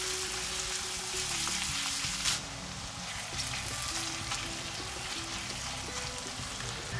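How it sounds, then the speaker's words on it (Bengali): Loitta (Bombay duck) fish fries over low heat with tomato and salt, a continuous close broad sizzle with faint stirring scrapes and a brief louder burst early on. "কম আঁচে 5 মিনিট ভাজা ভাজা করে টমেটো আর নুন দিয়ে দেবে।"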